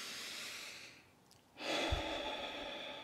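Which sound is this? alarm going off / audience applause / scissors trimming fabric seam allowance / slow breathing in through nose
slow breathing in through nose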